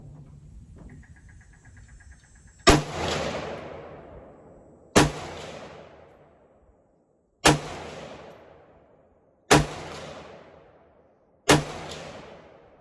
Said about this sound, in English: here we go, 5 shots at 51 yards